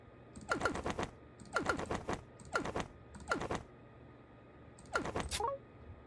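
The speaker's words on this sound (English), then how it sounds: "Do you guys see how that rapid clicking helped me figure out which one was the mine, which one wasn't the mine?" Rapid clicking while playing Minesweeper on a computer comes in five quick bursts of clicks, each about half a second long, separated by short pauses, close and fairly quiet.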